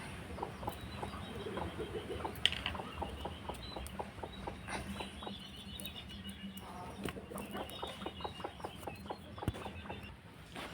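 Hen being set on a nest to brood eggs, clucking in a steady series of short, close pulses that continue throughout with brief pauses.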